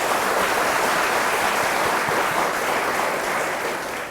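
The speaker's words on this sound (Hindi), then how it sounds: "तो हम तालियों की गड़गड़ाहट से शुरू करते हैं।" A group of children applauds at the start of a discussion program on parent–child relationships, with steady dense clapping throughout that tapers off slightly near the end.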